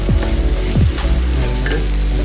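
Ginger and garlic go into onions and tomatoes frying in oil on an induction cooker, a loud close sizzle with scraping stirs and a few thumps of a spoon against the pan, no talking.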